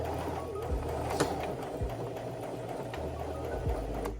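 Sewing machine stitching a denim jacket, running steadily in the background with a constant mechanical hum and a few soft clicks, no speech.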